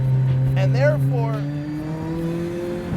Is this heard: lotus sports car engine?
yes